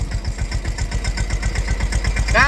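A tractor engine runs steadily in a village setting where soybeans are being sown, chugging in a close, even low-pitched rhythm that continues throughout.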